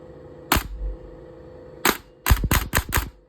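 Electric airsoft gun with its motor in the grip, an M170 spring and a 7.4 volt battery, fired on semi-auto: one sharp crack, a pause, then five quick snappy shots in a close, loud burst with no voices.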